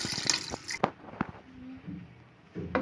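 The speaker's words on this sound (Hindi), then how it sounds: "अब इसके अंदर हम ऐड करेंगे तकरीबन 3 से 4 गिलास पानी।" Water is poured by the glassful into a pot of chicken, chickpeas and lentils for murgh channay, about three to four glasses. Short splashing bursts and clatter come up close in a quiet kitchen, with no talk over them.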